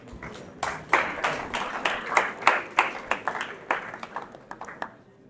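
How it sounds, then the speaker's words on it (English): A small group claps in a steady patter of sharp hand claps, moderately close, carrying on for several seconds with no talking over it. "just still clap for her"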